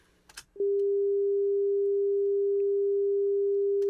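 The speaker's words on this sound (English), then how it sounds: "given a sine wave of 200 hertz, the second harmonic would be twice that, which would be 400 hertz" A pure 400 hertz sine tone, the second harmonic of a 200 hertz fundamental, starts abruptly after a brief faint rustle and holds perfectly steady and loud, alone.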